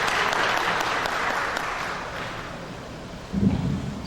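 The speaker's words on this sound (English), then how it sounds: "So please give yourself a big round of applause." Audience applause at a San Antonio housing plan annual event, a dense, steady wash of clapping that slowly thins out, with a brief low bump near the end.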